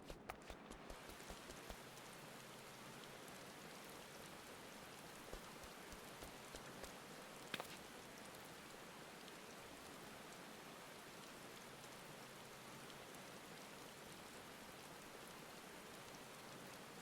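Steady, soft rain falls in Final Fantasy XIV, a continuous hiss of drops on the ground with a few faint taps and no voices.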